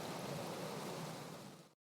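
Steady rain pours outdoors in a video game scene, a dense, even hiss that runs unbroken and fairly loud, then cuts off abruptly near the end with no voices.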